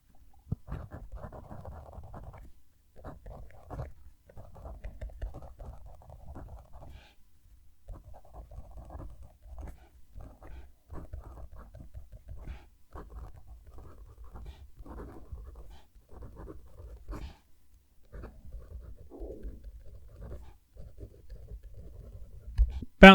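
A gel pen writing on paper at close range: soft, scratchy strokes that run in short bursts with brief pauses between words.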